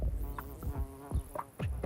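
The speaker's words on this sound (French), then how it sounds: "C'est la guêpe maçonneuse." A mason wasp buzzes close by, a faint, wavering insect hum with several short swells as it moves around.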